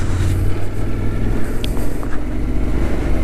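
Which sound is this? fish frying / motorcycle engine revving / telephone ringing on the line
motorcycle engine revving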